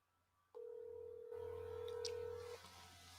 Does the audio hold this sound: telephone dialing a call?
yes